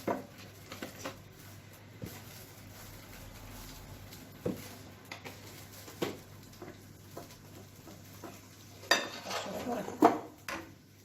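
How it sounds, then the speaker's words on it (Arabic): A spoon stirs semolina basbousa batter in a bowl, giving soft scraping and scattered light clinks against the side, with a few louder knocks near the end and quiet stretches in between. "غنخلطها مزيان مزيان."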